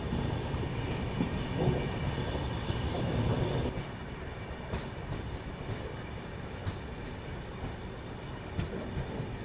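Train halted at a small junction railway station in India, heard from inside a first-class carriage as a low, steady rumble with scattered clanks and knocks.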